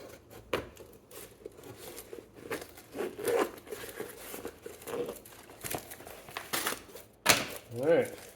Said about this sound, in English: well, that zipper is still pretty stiff